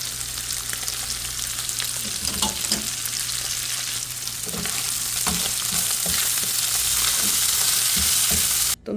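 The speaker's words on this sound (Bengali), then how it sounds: "এদিক দিয়ে ছোট মাছ রান্না করছি, ভাজা ভাজা করব।" Small fish fry in a pan at home with a steady, close sizzle and crackle that runs unbroken and fairly loud, then cuts out sharply at the very end.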